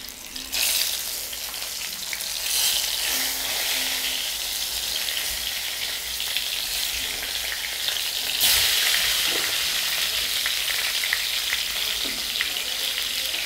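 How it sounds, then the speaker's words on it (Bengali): Pointed gourds fry in hot mustard oil, a steady, bright crackling sizzle that stays loud for the whole stretch, with a brief surge as more pieces hit the pan and no voices. "তেলটা গরম হয়ে গেছে, তো আমি এবারে এক এক করে পটলগুলো ছেড়ে দেবো"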